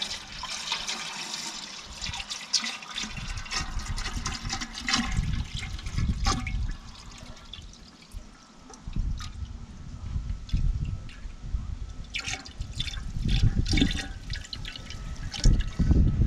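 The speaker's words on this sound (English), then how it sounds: "we're going to fill the hopper full of water" Water pours steadily into the hopper of a 1937 Lister A Junior stationary engine, a continuous splashing, gurgling stream lasting the whole stretch, close and fairly loud with no talking.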